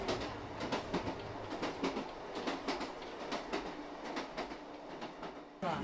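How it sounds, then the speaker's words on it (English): Slow passenger train 5623 in the Liangshan region of China rolling along the rails, with a rhythmic clickety-clack of wheels over rail joints, heard faintly from on board with a sharp noise at the end. "I got on train 5623 and continued my trip."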